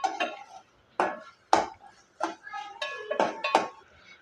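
Metal spoon scraping and clinking in a pan while sautéing bottle gourd with turmeric, sharp intermittent clinks and scrapes close up in a quiet kitchen, about eight distinct hits.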